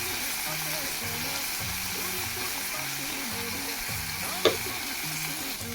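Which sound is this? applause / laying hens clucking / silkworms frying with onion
silkworms frying with onion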